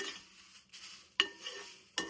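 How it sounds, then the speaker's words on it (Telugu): Curry leaves frying in oil in a pan while being stirred, with scraping stir strokes and soft sizzling at close range, two sharp utensil scrapes standing out. "దీనికి కూడా ఆయిల్ వేసి వేయించాలా?"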